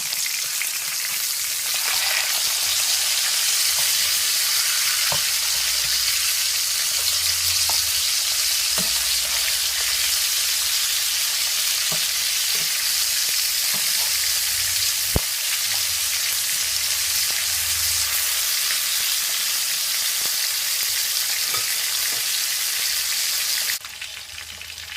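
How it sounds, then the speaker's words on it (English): Pork chops frying in a pan for brown stewed pork, a loud continuous sizzle and crackle with occasional sharp pops, steady throughout and cutting off near the end. "you're just gonna fry them until they became very brown for at least 5 minutes on each side"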